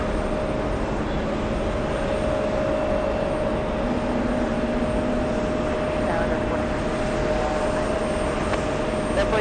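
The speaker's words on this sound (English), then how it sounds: "Little CRJ heading to Portland, Maine. Up next for takeoff." A small CRJ regional jet at JFK airport rolls for takeoff, giving a loud, steady engine roar with a sustained whine that holds evenly across the whole stretch.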